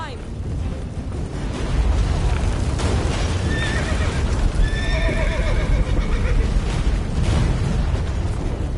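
A horse in The Witcher video game neighs several times while hooves gallop in a steady clip-clop, loud and close over battle rumble, with voices talking over it.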